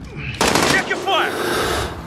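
Rapid automatic gunfire bursts from Call of Duty: Modern Warfare domination match, loud and close, starting after a brief quiet moment and continuing with a second burst, with game voice callouts mixed in.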